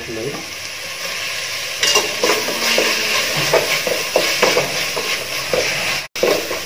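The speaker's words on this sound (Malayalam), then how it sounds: "ഉള്ളി അത്യാവശ്യം വഴണ്ടി വന്നിട്ടുണ്ട്. നമുക്ക് കുറച്ച് തക്കാളി ആഡ് ചെയ്യാം." Onions and tomatoes sizzle steadily in hot oil in a pan for beef biryani, with repeated scraping and stirring strokes close by.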